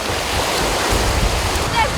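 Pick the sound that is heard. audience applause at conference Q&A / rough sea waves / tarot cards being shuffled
rough sea waves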